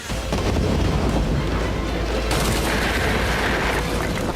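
A loud blast bursts into a dense, roaring wash of noise that keeps rumbling and crackling for several seconds.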